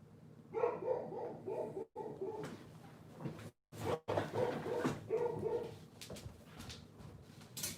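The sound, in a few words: puppy barking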